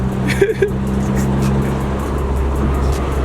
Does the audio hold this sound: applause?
no